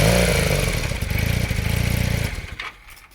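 A 1980 Honda CM400E motorcycle engine idles close and loud but runs choppy and uneven, its rough pulsing sputter fading and stumbling toward the end as it nearly dies.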